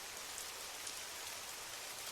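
Steady rain with a soft hush of wind outside, a gentle continuous wash of falling drops on surfaces, even and unbroken throughout, with no voices.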